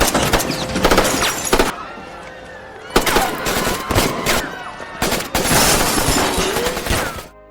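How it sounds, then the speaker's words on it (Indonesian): Rapid bursts of gunfire with machine-gun rattles and single shots break out in a film scene where soldiers rush to make an arrest, loud and close, separated by brief lulls, with debris-like crackle between volleys. "mulailah beberapa suara tembakan terdengar."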